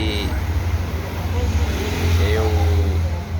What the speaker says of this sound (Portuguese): E esse barulho dá para entender que seria biela. Esse é barulho de biela.